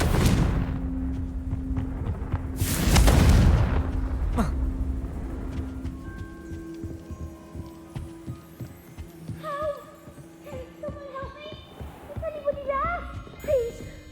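A Confringo fire spell from the game Hogwarts Legacy bursts with a loud booming blast, then crackles and rumbles away beneath layered game music and effects.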